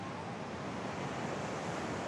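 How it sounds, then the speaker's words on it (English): Ocean surf rolls onto the beach at Jaco, Costa Rica, a loud, steady wash of breaking waves with wind rushing across the microphone and no voices. "You'll see a lot more waves crossing each other."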